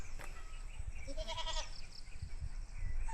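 Goats bleat on a mountain trail during a ride up Mt Banahaw, a few short wavering calls rising above steady outdoor background noise and wind rumble.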